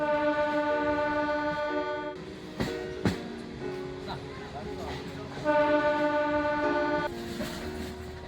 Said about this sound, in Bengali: সকাল 8:11 আমাদের ট্রেন প্রবেশ করল নামখানা স্টেশনে